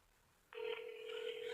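A telephone call rings through after the line connects: a steady electronic ringing tone starts abruptly about a third of the way in and holds at an even level to the end.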